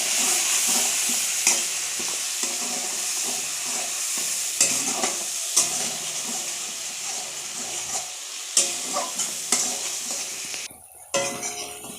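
Spice masala of onion, garlic, chilli powder, salt and turmeric fries in a pan while a spoon stirs it, a close hissing sizzle broken by regular scraping and clacking strokes, no voices.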